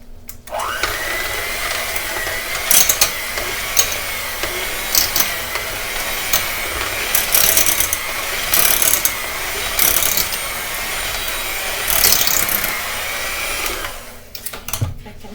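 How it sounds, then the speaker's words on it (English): An electric hand mixer whipping mashed potatoes with pepper and salt in a home kitchen, a steady loud whirring drone lasting throughout with slight fluctuations as the beaters move, stopping near the end. "Then I'm going to mix it together."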